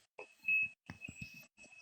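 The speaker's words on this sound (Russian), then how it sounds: "там что-то пикает постоянно, пикает" An unidentified electronic device beeps repeatedly in a room, a thin high tone sounding in short bursts and one longer steady beep, faint amid quiet handling noises and muffled low thumps.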